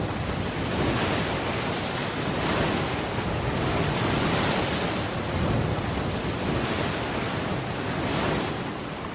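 Ocean waves roll through the Drake Passage between Cape Horn and Antarctica, with heavy wind noise over them. The roar is broad, loud and steady, surging in slow swells, and no one speaks.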